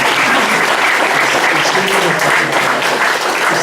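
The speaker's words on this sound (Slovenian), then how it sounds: "No, potem pa še en aplavz" Dense, even applause from an audience at a book presentation, sustained clapping filling the whole short stretch without pause.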